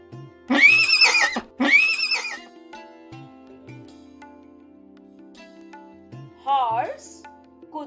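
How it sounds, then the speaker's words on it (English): A horse whinnies twice in quick succession, loud and close, followed by a quieter, shakier neigh after a stretch of near silence. "Horse, Kutira."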